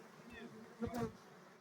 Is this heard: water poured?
no